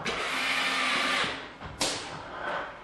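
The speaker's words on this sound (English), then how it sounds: "line it up, and we'll put some screws in here." A power drill driving screws into a ceiling joist: a loud, steady motor whine for over a second, a brief dip, then a sharp restart and a shorter run that tapers off, close by with no talk.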